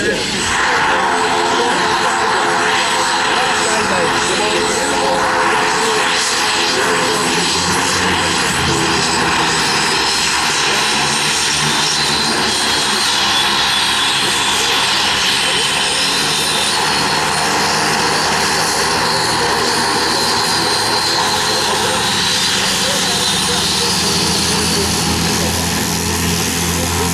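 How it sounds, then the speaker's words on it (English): Propeller airplane flying at the Aero Gatineau airshow, a loud continuous engine drone with a steady tone and slight shifts as it passes, dominating throughout. "I am in love with this airplane that you see casting out right now."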